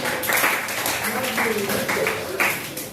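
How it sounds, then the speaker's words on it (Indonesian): A group claps for a participant during a classroom game at a pesantren-style session, several uneven bursts of applause close by, mixed with voices talking and calling out over it. "Oke, beri tepuk tangan buat Fatih."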